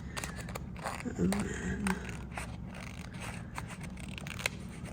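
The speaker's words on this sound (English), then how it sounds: "so now I'm using these little baby tonic scissors" Small Tonic scissors snip paper at a craft journaling table, giving a quick run of close, crisp cuts and light paper rustles while someone briefly speaks.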